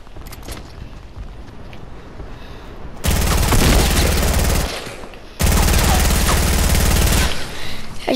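New gun fired in Fortnite, loud rapid automatic bursts in two long sustained volleys with a short break, heavy and close, with quieter game ambience before them.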